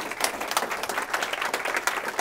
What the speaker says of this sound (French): on va profiter de cet élan d'applaudissements